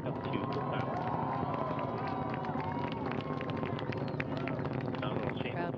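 A crowd at Wallops cheers and roars for the Antares rocket liftoff on a cargo mission to the International Space Station, a dense, steady wash of distant voices and rumble held under a faint wavering tone.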